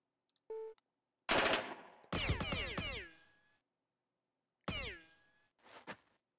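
Gunfire from the video game Jagged Alliance 2, with a short sharp shot, then a loud automatic burst, a second burst ringing out with a metallic tail, another burst after a pause, and a fainter final shot, with silence between.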